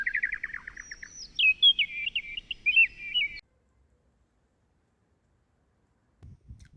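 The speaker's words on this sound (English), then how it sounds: "I did not know what a fauvette was, but apparently it's a bird." Warbler song, a quick run of bright, high chirping trills and warbled phrases lasting a few seconds, fairly close, followed by near silence and a faint low rustle.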